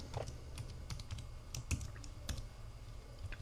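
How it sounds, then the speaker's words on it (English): Keys clatter on a computer keyboard as a password is typed during a Kali Linux install in VirtualBox, with quick irregular taps close up and fairly quiet, no voices. "Now we got to put a password in, so I'm going to put in my password."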